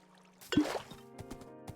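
In a video game, a water bottle is emptied onto dirt to make mud: a short splashing pour near the start, followed by a few soft, evenly spaced clicks and taps.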